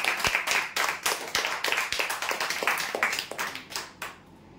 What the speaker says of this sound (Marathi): जोरदार टाळ्या होण्यासाठी।